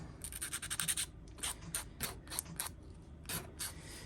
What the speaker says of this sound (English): I'm just using a 180 sanding stick to get all this over burr off